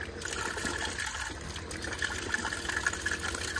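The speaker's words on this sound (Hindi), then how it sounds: "ये मोटर मैंने लगवाई थी, इसको क्या है आपको चला के दिखाऊं" Water flowing steadily from a motor-driven pump, a continuous moderate gushing stream with no talking, fairly close.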